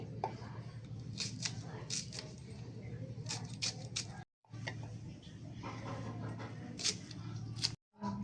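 Knife chopping an onion and its green top on a board while cooking cabbage bhaji, a run of sharp, fairly quick cuts with brief pauses, under steady background hum and some quiet talk.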